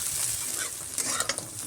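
Crabs fry in a pan over a low gas flame, giving a steady, close sizzle with a few light stirring scrapes and pops, and no talking.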